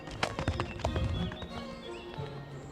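Elite horses in training thud and clip-clop with a quick, uneven rhythm of hoofbeats, fairly close and distinct over faint background noise.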